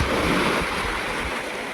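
Sea waves wash onto a beach in the morning, a broad steady hiss of surf mixed with wind noise, close and continuous without voices.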